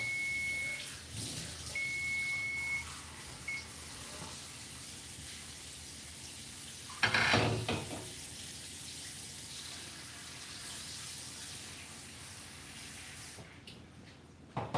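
Water running from a faucet into a sink to soak a jar, a soft, steady trickle with a brief louder gush partway through, plus a few faint high beeps near the start.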